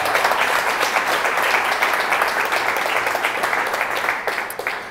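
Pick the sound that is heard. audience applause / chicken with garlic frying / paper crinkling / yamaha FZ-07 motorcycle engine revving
audience applause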